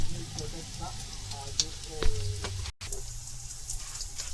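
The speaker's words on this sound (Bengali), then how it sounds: "একই কড়াইয়ের মধ্যে তেল দিলাম" Oil heats in a wok after soybeans were fried, giving a quiet, steady sizzle with faint crackles and a few brief clinks, under nearby talk.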